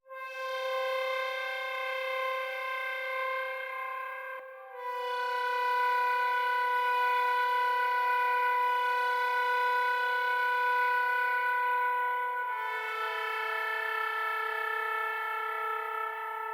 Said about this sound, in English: Next thing here, we have a swell pad.